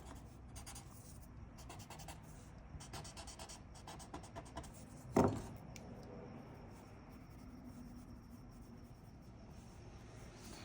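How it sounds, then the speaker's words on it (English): A paper stump shading a pencil drawing of a face, producing soft, faint, continuous rubbing and scratching strokes close up, with one brief louder tap midway. "let's do a bit of shading with our paper stump."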